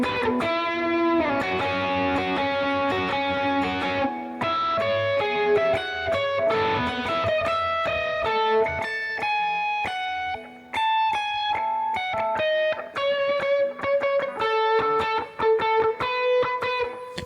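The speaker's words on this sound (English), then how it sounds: "Two overdrives, and it gives me this distortion." Overdriven electric guitar through two stacked overdrive pedals, played as a sustained, harmonically rich distorted riff with bright melodic lead lines, loud and steady with a brief dip midway.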